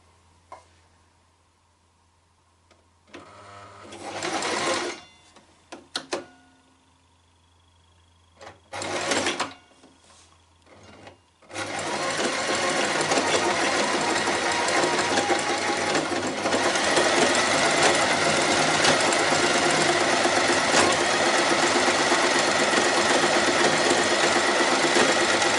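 A sewing machine stitching a drawstring bag starts with a few short bursts and mechanical clicks, then runs in a long steady close whirr of continuous stitching.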